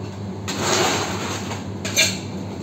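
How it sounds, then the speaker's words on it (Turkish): Ice being added to a cocktail shaker, heard as two bright clattering bursts, one longer rattle early and a shorter knock near the end, over a quiet kitchen background. "İçerisine buz ilave ediyoruz arkadaşlar"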